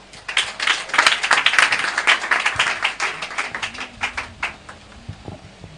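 A church congregation breaks into applause, a dense burst of many hands clapping that peaks loud, then thins into scattered, fading claps with faint voices behind.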